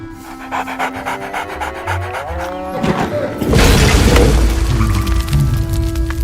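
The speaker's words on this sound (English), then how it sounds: "You hear a deep growl that makes the hair on the back of your neck stand up." A creature in the fantasy game Wizard101 lets out a deep growl: a low, rumbling snarl swells midway through and then sustains loudly over a droning, tonal backdrop.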